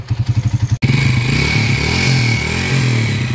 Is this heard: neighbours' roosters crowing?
no